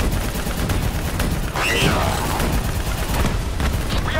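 Call of Duty Black Ops III gunfire is aimed at a VTOL in a dense, continuous roar of shooting. Battle noise stays loud throughout, and voices come in amid the din.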